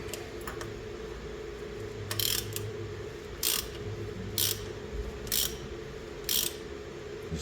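Ratchet tightening the oil filter adapter on a 2005 Acura MDX engine, with five or six short, crisp clicking bursts spaced about a second apart over a steady low hum, close and alone.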